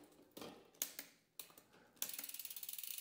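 Stiff, clunky gear shifting on a Scott Scale RC mountain bike with a SRAM Eagle 1x12 drivetrain: a few sharp mechanical clicks, then a fast ratcheting tick of the chain and cassette, close and clear.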